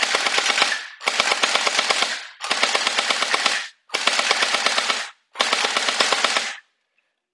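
A Noxew M4 gel ball blaster fed from a drum magazine fires five rapid full-auto bursts, each a dense rattling stream of shots about a second long, loud and close with brief gaps between.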